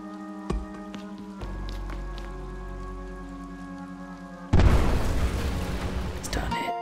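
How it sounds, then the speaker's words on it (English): A sudden loud bomb blast in the pixel-art adventure game Eastward, a sharp boom bursting over a quiet looping game soundtrack and then trailing off into crackling debris noise. "Maybe I can bomb that."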